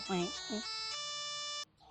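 A ringtone from an expensive mobile phone in a comedy sitcom: a short melodic tune with a singing quality, then a sustained held tone that cuts off abruptly, fairly close and clear.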